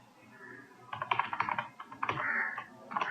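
Computer keyboard typing during a spreadsheet formula entry, with bursts of quick clicking keystrokes in uneven clusters, close and moderately loud, with a pause between runs.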